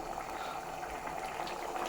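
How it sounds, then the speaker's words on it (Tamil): A pot of tamarind broth with onion and tomato bubbles at a steady boil on the stove, giving a faint, continuous low bubbling and simmering hiss with no talk. "பார்த்தீங்களா நல்லா கொதிக்குது"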